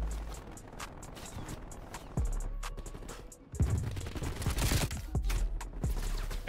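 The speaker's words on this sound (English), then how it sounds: "That's a sentry gun." Sentry gun in Call of Duty: Black Ops Cold War firing rapid bursts of automatic gunfire at moderate distance, mixed with other game battle noise and clanks, growing louder partway through.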